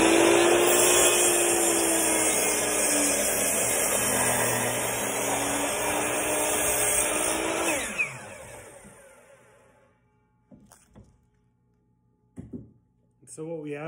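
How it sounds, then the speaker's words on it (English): A chop saw cuts a four to five inch section from an aspen branch: a loud, continuous whining motor with blade noise for about eight seconds, then spinning down, followed by a few quiet clunks. "cut about a 4 or 5 inch section of this aspen branch"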